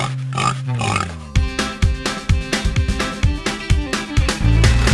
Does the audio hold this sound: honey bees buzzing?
no